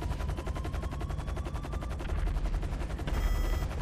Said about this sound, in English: I can hear them shooting.